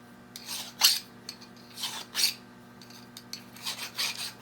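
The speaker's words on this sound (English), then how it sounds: "Just filing off the underside burr." A hand file scrapes a burr off the underside of a metal part in a series of short, close rasping strokes, with a faint steady hum underneath and no talking.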